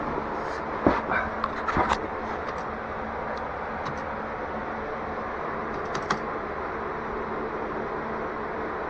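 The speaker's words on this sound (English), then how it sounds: "Mouse and keyboard here, wireless, beautiful invention." Quick bursts of clicky typing on a wireless computer keyboard at a desk, a cluster of keystrokes early and a few more later, over a steady background hiss.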